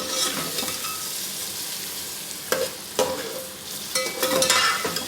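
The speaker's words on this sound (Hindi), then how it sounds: "इसमें डाल देंगे प्याज और हरी मिर्चें। इन्हें फ्राई करेंगे" Chopped onions and green chilies fry in a pan, with a loud, steady sizzle close by and a few sharper scrapes and bursts as a spoon stirs them.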